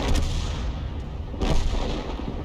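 Two heavy booming shots fire in World of Tanks, likely from a self-propelled artillery gun such as the Lorraine 155 mle.50 or M12, with dense rumbling blasts close together and a lingering roar.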